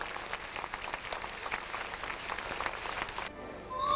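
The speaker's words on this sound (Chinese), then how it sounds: "整场晚会高潮迭起，掌声不断。" A hall audience at a gala concert of folk and patriotic songs applauds with continuous, moderately distant clapping, which cuts off abruptly near the end as a soft tone begins.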